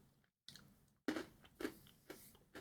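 Close, quiet chewing of Poppets chocolate-coated caramel sweets, a few crunchy bites and moist chomps at an uneven pace after a brief silence.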